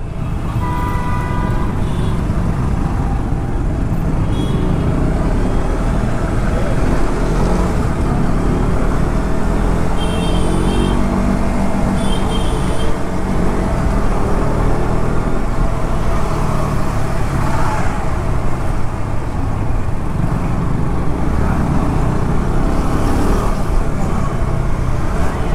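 Busy road traffic rumbles steadily and loudly, with engines droning close by and a few short horn toots cutting through midway.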